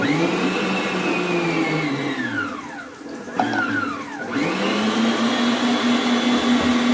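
Steady whirring drone of an electric mixer beating cake batter at speed 1, loud and close, dipping and shifting pitch briefly midway before settling back to a constant hum.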